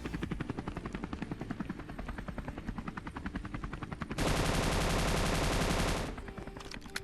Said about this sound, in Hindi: यहाँ पर मेरे को हेलीकॉप्टर का साउंड आता है